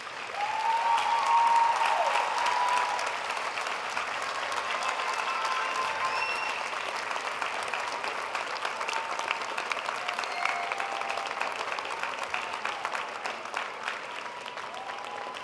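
Graduates at an undergraduate commencement applaud their families, sustained dense clapping from a large crowd in a big hall, loudest at first then steady, with a few cheers and shouts.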